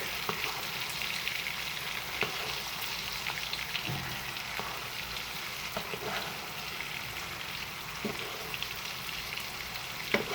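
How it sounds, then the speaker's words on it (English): Steak fries in a stovetop pan and is basted with melted butter, giving a steady close sizzle with faint spoon scrapes and small clicks scattered through it. "with the melted part of the butter, we are going to take our spoon and we're going to start to baste the top of the steak"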